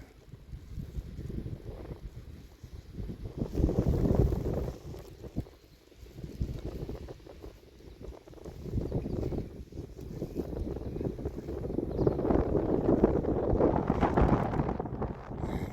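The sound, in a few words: wind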